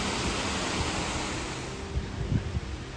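A tiny stream of water flushes through a small gap in the rock at St Nectan's Glen, Tintagel, pounding down below; a steady broad rushing wash with a few louder splashes near the end.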